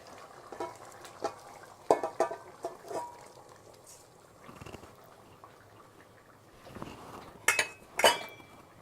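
Raw shrimp stirred in a cooking pan, a series of scattered clinks and scrapes of utensil against pan with soft sizzling underneath, loudest near the end, no talking.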